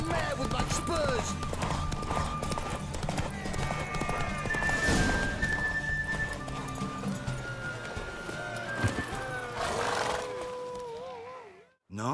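Horse hooves clip-clopping at a run during a horse race in The Witcher 3, a steady galloping rhythm mixed with game music and effects, with a whinny and speech-like voices over it before a sudden cut near the end.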